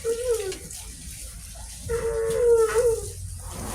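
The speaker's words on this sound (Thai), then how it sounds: "หนูเล็กก็เตรียมอาบน้ำแล้ว" Water splashes and pours over an elephant being bathed, a continuous rushing wash close by, while a voice or animal call rises in tonal, howl-like bursts over it.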